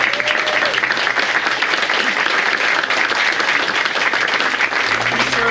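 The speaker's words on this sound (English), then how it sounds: "Let's give them all a huge round of applause." A large crowd applauds loudly and continuously, a dense wash of clapping that holds steady throughout.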